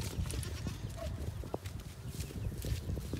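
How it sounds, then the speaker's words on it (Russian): A strong village goat trots along outdoors, its hooves clattering softly in an irregular patter against steady low background noise, faint and without clear speech. "Ой, ты ж не беги, это я упаду. Это сильная коза."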